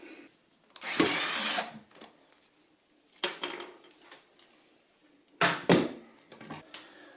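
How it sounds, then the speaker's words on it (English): Nut and screw being removed from a Bio Bidet Aura A7 seat mount with a power tool, three short separate bursts of buzzing and rattling with quiet pauses between them. "There's a nut and a screw. Let's remove it."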